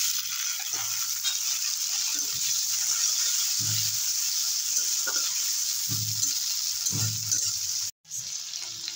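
Green peas go into a hot frying pan and crackle in a dense, steady sizzle. Occasional stirring knocks sound, and there is a short break near the end.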